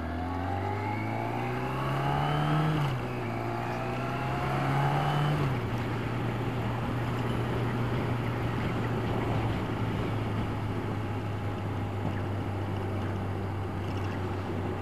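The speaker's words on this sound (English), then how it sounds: "I love that pop, pop, pop from exhaust." A car engine revs up twice, rising and falling in pitch, then settles into a steady drone with a tone that hums on for the rest of the pass, with no voices over it.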